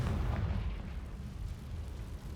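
Confringo fire spell detonating in Hogwarts Legacy, a deep booming blast with a rolling low rumble that decays over a couple of seconds, no voices.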